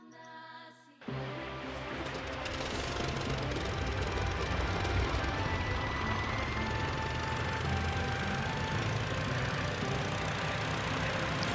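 In the flight video game Sky Odyssey, a seaplane fitted with pontoons drones steadily after a sudden start, a continuous rough engine roar that swells slightly and holds without talk.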